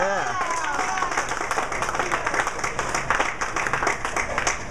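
Applause and cheering at a bowling alley during an 8-pin game, a burst of clapping from a small crowd with voices and lane noise mixed in.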